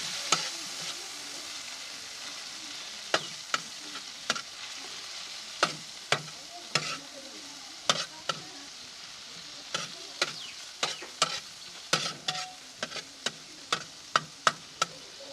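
Red chili masala being stirred and fried in a pan for tawa-fried kaleji, with a steady sizzle broken by repeated sharp scrapes and taps of the spoon that speed up toward the end, close and fairly loud.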